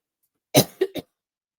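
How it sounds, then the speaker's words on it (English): Three quick coughs in a row, close and fairly loud, the first one strongest, then silence. "I am so sorry for coughing in your ear like that."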